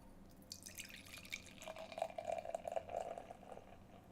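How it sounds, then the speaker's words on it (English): AleSmith imperial stout is poured slowly into a snifter glass, starting with faint drips and building to a steady liquid trickle. "Get into the theatrics of a 5-minute pour"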